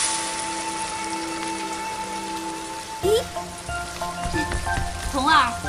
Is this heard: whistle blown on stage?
no